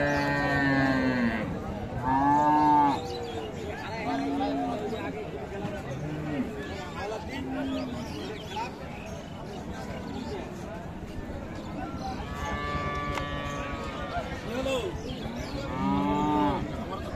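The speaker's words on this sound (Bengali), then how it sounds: "আর এই যে ষাঁড় বাচ্চা," Cows and a bull calf moo repeatedly at a busy cattle market in Bangladesh, several drawn-out calls close by, some overlapping, amid crowd chatter and someone talking.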